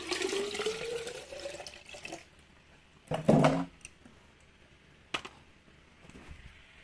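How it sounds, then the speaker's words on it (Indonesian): Water pours into an HHO generator charged with 2% KOH electrolyte, in several separate bursts of splashing and trickling, the strongest in the middle, with quieter gaps between. "sekarang kita isi air dulu di sini kayak tadi"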